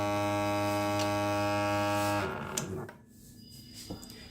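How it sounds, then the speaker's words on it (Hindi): A Milkoscreen milk testing machine powering on: a steady electrical hum runs for about two seconds, then cuts off into faint clicks and quiet room noise. "ये हमारी मिल्को स्क्रीन स्टार्ट हो जाती है।"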